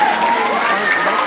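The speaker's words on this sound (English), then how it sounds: "We want to give them a round of applause." Audience applause at a 6th grade promotion and trimester awards ceremony, a short burst of steady, dense clapping from a crowd that holds at an even level throughout.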